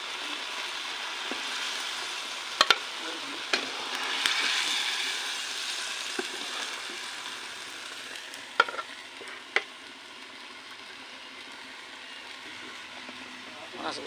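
Snakehead fish and bottle gourd frying in a pan, a steady close sizzle with occasional stirring scrapes and clinks over about fourteen seconds, no talk.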